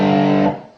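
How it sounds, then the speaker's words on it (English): Electric guitar run through a pedal blending overdrive and distortion with a heavy bassy bottom end, one loud sustained chord ringing for half a second before fading quickly, heard alone. "It's kind of a mix, actually, of kind of overdrive and distortion"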